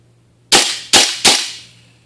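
A King Arms Colt CQBR gas blowback airsoft rifle fires three sharp semi-automatic shots, each a loud crack with a short decaying tail, spaced roughly half a second apart in a quiet setting.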